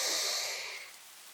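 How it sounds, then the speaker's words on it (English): One slow, deep breath drawn in through the nose, soft and airy, fading out over about a second in a quiet room. "Breathing in through the nose"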